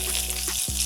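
Whole-grain bread frying on a hot press in a home kitchen, a steady close sizzle that fills the clip with one brief dip in the middle.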